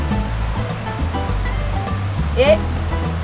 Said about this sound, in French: il y a de l'eau qui coule ici.